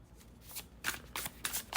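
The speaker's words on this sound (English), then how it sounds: "So, I swear when I was even shuffling, this card kept wanting to come out." A deck of tarot cards is shuffled by hand at close range, producing several quick riffling bursts of flapping card noise separated by short pauses in a quiet room.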